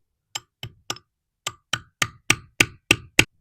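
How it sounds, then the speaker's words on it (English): Metal gate rod being hammered into wood for an Adjust-A-Gate AG72 kit: about ten sharp, close whacks, a few spaced apart, then a steady, quickening run of strikes. "I'm trying to hammer it in so it'll bite in, but not so good."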